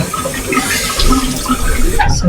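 Cold water runs steadily from a tap and splashes as a face is rinsed, a loud close wash that fills the moment with no speech.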